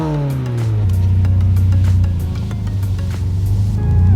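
A widebody Toyota 86 engine, held by a rev limiter, drops from a blip to a steady high idle and holds it, loud and close, with faint crackles near the end.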